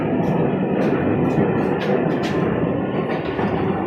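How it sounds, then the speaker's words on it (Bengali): A Dhaka metro rail train pulls slowly away from the station, its steady rumble and rolling hum filling the space around the listener, with faint higher whines rising now and then. "আস্তে আস্তে করে ট্রেনটি সামনের দিকে এগিয়ে চলছে"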